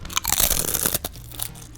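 Loud, close crunching of salt and vinegar potato chips being bitten and chewed, a burst of crisp crackles that tapers off.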